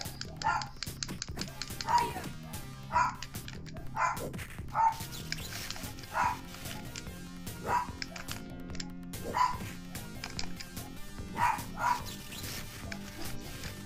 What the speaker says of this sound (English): Once again, sorry for the dogs.